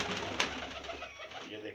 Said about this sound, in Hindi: दो तीन ये हमारे पुराने कबूतर थे, इसको जोड़े में शामिल करने लगे।